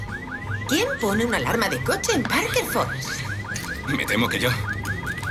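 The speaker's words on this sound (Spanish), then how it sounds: "¿Quién pone una alarma de coche en Parker Falls?" A car alarm blares in a repeating pulsing pattern through the whole stretch, with someone speaking over it in the middle and near the end.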